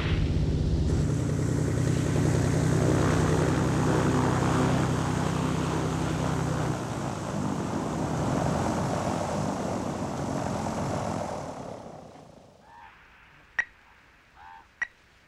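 Small propeller airplane flying over the Rocky Mountains, its engine drone loud and steady for most of the stretch, dropping in level midway and fading out near the end, leaving a few brief faint knocks.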